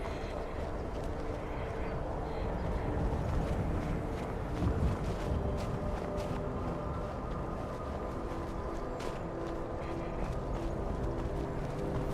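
Horse hooves clip-clop steadily on the ground in the Skyrim VR video game, a continuous even trotting rhythm with a faint background drone, no talk.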